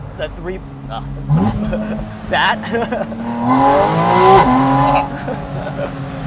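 A Porsche Boxster Spyder RS engine revs up and climbs in pitch, loud and close, with people talking over it.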